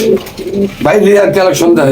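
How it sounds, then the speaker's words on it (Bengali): Pigeons coo close by in low, throaty, repeated rolls, loud and clear over a short stretch. "আরো কবুতর আছে দেখাবো"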